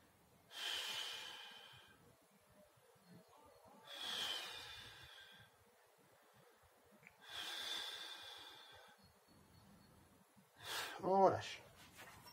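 Three slow, breathy exhalations come at even intervals during an upper-body stretch, close and soft, followed by a brief snorting breath near the end, with quiet spoken instruction in between.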